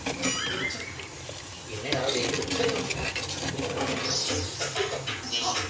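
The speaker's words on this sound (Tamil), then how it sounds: "கொதிச்சிட்ருக்கு குழம்பு." Fish curry with mango pieces bubbling in a clay pot, a close, busy simmer mixed with stirring and clinks of a utensil against the pot, with a voice faintly in the background.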